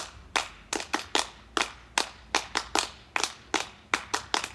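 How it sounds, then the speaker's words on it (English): Hand clapping at a children's circle time, a series of sharp, close claps in an uneven rhythm, some single and some in quick pairs, with no talk over them. "I clapped too hard"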